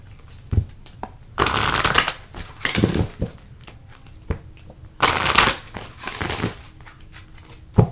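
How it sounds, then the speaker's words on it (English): Cosmic reading cards being shuffled by hand in a few bursts of riffling and crinkling, close and fairly loud, with short pauses and soft handling taps between the bursts. "I'm also going to use these cosmic reading cards."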